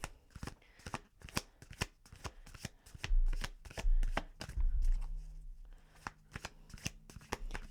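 Tarot cards being shuffled by hand in close, rapid riffling bursts, with a few soft thumps as the deck is handled midway; no talking.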